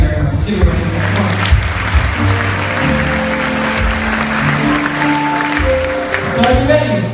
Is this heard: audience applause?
yes